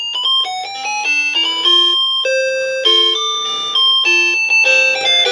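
Bright, square-toned beeping melody from a BBC Micro computer, notes hopping quickly up and down in a chiptune-style tune, clean and steady with no voices over it.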